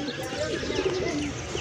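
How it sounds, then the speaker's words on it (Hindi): A white pigeon cooing softly and close, a few low murmuring coos over steady background noise. "सफ़ेद सा कबूतर है ये"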